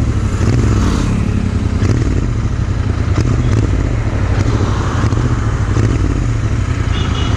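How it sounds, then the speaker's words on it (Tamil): Royal Enfield Interceptor 650 exhaust at full throttle with a well-heated silencer, a loud, continuous, close-up motorcycle roar that holds steady with no talking. "cath exhaust sound"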